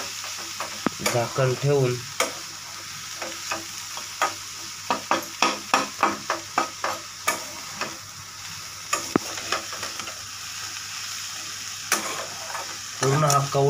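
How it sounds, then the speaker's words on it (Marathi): Tender chaya greens, a wild forest vegetable, sauté in a pan with a continuous sizzle and a quick, rhythmic run of spatula knocks and scrapes. A brief voice speaks near the start. "मस्त पैकी आता त्याला परतून थोडंसं उमून द्यायचं"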